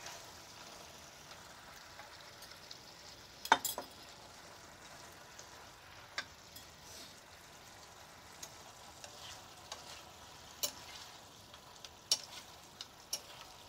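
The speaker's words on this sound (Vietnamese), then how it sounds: "Trộn đều nó lên rồi mình sẽ xào cho đến khi nước nó sánh lại" Noodles and beef in tomato sauce being stir-fried in a pan, giving a soft steady sizzle with occasional scraping clicks from stirring, close and fairly quiet, no talking.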